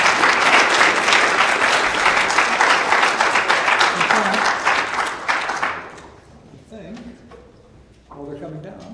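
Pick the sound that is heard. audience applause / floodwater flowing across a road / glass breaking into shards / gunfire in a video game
audience applause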